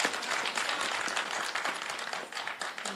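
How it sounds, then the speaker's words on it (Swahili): A crowd at a municipal board handing-over ceremony applauds the county governor, a brisk, even wash of many hands clapping that holds steady for a few seconds. "Tumpigie makofi."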